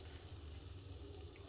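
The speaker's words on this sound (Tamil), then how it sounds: "இப்போ நம்ம வச்சுருக்கிற பட்டை, கிராம்புலாம் தாளிச்சிக்கலாம்." Cinnamon, cloves and bay leaf sizzle as they temper in hot oil and ghee in a pressure cooker, a steady, faint frying crackle throughout with no voices.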